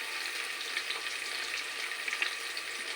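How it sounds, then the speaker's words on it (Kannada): Onion and green chillies frying in hot oil for biryani, a steady close sizzle with a soft crackle throughout and no voices. "ಆನಿಯನ್ ಸ್ವಲ್ಪ ಚೆನ್ನಾಗಿ ಫ್ರೈ ಮಾಡ್ಕೋಬೇಕು"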